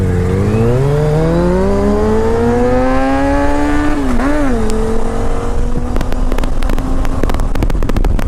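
A Triumph motorcycle engine revs and pulls smoothly under throttle while riding, rising steadily in pitch, dipping briefly as it shifts, then climbing again, loud and close with wind buffeting.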